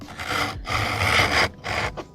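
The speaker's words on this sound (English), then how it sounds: "It's almost like it's tearing rather than cutting." A hand plane rasps roughly across sapele wood, tearing rather than cutting cleanly, in three long close strokes with brief pauses between them.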